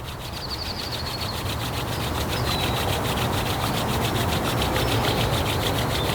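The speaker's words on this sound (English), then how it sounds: "Let's begin by just rubbing our hands together, creating a little heat, energy, prana," Two palms rub briskly together, making a steady, close, dry swishing friction with a fast back-and-forth rhythm that continues for several seconds without talk.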